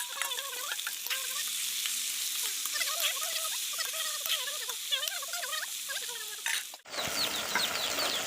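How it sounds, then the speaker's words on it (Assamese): Steady, bright sizzling of bay leaves frying in hot oil for a duck curry, crackling continuously at close range with no talk, then a brief clatter and the hiss resumes. "তেলখিনি গৰম হ'লে মই ইয়াতে তেজপাত দিম"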